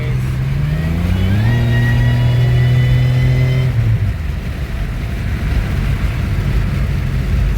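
A 2007 Pontiac Grand Prix engine pulls hard on the road, its note rising smoothly through the revs before easing off and settling into a rough cruising rumble, loud and close.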